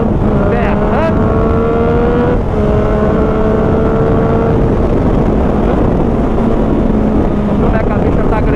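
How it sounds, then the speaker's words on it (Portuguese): Yamaha MT motorcycle fitted with a G-Escape GP2 exhaust, its engine droning loudly and steadily up close with a few pitch rises as it revs. "Hoje estamos com o escape G-Escape GP2 berrando."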